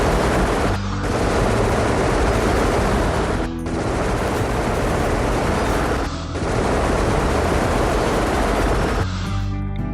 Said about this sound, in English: Let's get this turret to shoot that guy.